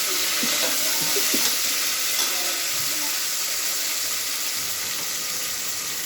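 Mint leaves fry in hot oil for tomato bath, a bright steady sizzle and hiss with a few faint clinks of stirring, close and continuous.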